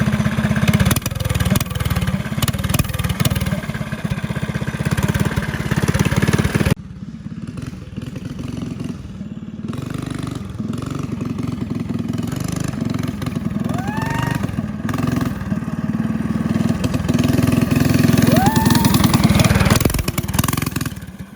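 Go-kart engine fitted with a loud exhaust, running steadily and revving close by, with a brief dip partway through before it picks up again.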